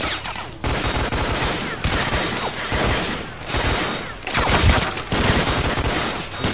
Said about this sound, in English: Are they shooting through the walls now?